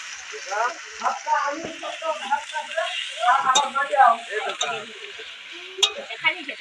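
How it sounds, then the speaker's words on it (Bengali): Ginger paste and garlic paste fry together in a pan while cooking a steamed hilsa fish dish, a steady moderate sizzle running beneath a person talking throughout. "এই যে আদা বাটা, আর দেবো রসুন বাটা, একসঙ্গে ভাজবো"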